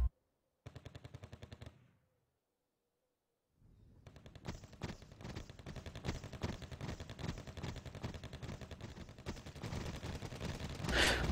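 Machine gun fire in the Wargame Red Dragon video game, a short rapid burst followed by a pause, then sustained dense automatic fire mixed with battle noise.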